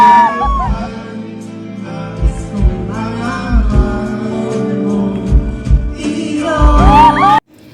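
A live audience erupts in shrieks and cheers as a couple sings together on stage, loud and sustained, with music and voices carrying through the excited noise until it cuts off abruptly.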